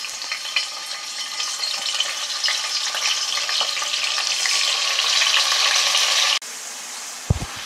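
Potatoes and carrots brown in margarine in a pan for beef caldereta, a dense continuous sizzle growing slightly louder before cutting down sharply, followed by a single soft knock.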